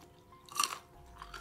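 Close crunchy chewing of a homemade copycat Panda Express chicken dish, one brief burst of crisp bites heard quietly, with no talking.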